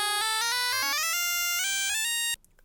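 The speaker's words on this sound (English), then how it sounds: "you can probably hear that even just one semitone difference introduces different textures" Bright, tonal synth notes from an MPC Live used as a synthesiser, a quick run of pitch steps shifting by semitones, clean and ringing, then stopping abruptly near the end.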